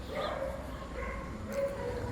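Dogs bark on a street in Santo Domingo, a few scattered yips and barks at a distance mixed into steady street noise, faint and somewhat masked.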